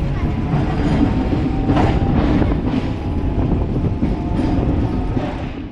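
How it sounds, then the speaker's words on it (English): Rail cars are driven onto a vessel in a continuous rail-to-sea loading process. A loud, steady rumble runs throughout with faint rhythmic wheel clacks and no voices. "Rail cars are driven directly onto a vessel, linking rail and sea transport in one continuous loading process."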